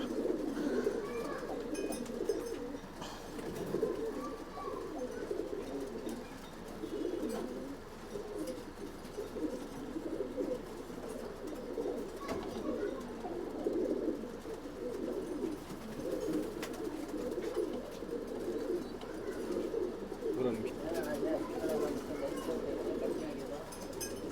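Pigeons from an old bloodline coo continuously in a loft in Bangalore, a low rolling murmur of several birds close by with faint background noise.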